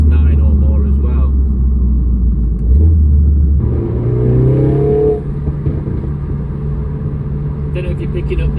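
A Mercedes-AMG A45 S (W177) with an Akrapovic exhaust rumbles and revs close by, engine note rising and settling, with faint crackles.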